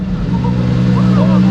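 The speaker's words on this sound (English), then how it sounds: "That's the sound of a Maserati MC12 that I would bet my life was straight piped." A straight-piped Maserati MC12 roars loudly and close on a street during Monterey Car Week, with a steady, deep exhaust blare that rises through the short burst, and voices faintly under it.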